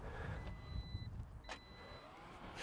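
Power tailgate on a Polestar 2 electric hatchback closing: faint electronic warning beeps sound, then a soft thud as the hatch shuts and latches, quiet and close by.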